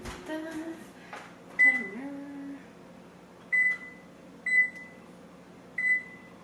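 A kitchen timer is set while baking small croissants. A few button presses come first, then short, sharp electronic beeps repeat at intervals over a quiet kitchen background. A voice talks briefly near the start.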